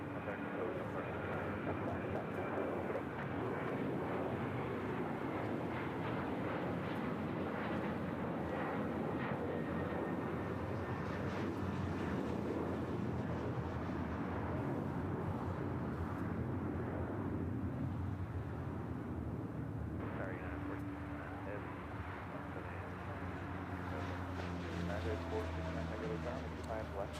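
KLM Boeing 777-200ER arriving from Amsterdam at LAX, a broad steady jet engine roar building and easing over the stretch, with talk running over the noise.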